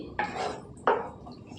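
Two metallic clanks of a spoon and lid against a cooking pot of brinjal and drumstick curry, one at the start and a sharper one near the middle, close with no talk.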